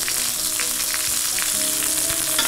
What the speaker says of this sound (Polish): Takim pieniącym się masłem już brązowym polewam steka.